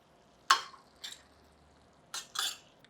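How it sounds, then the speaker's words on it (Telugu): A spoon scrapes and stirs mixed vegetable curry in a pan, four short separate clinking strokes with quiet pauses between them, close and fairly soft. "ఒకసారి మళ్ళీ పైకి కిందకి కలుపుతాం."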